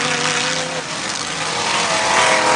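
Demolition derby cars at an outdoor arena engine roaring loudly and continuously, a dense, distorted wash of revving motors with no distinct crash hits standing out.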